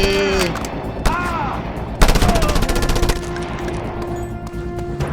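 Rapid automatic gunfire from the video game Just Cause 2 comes as a loud, sustained burst of fire, with tonal game sounds running before and after it.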